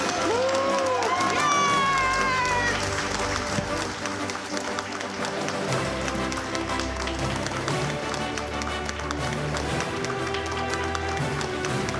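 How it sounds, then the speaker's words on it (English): A crowd claps and cheers for the winner of the Humber College Pastry Cup, with dense, sustained applause and scattered shouts heard over music and some talking. "Big round of applause"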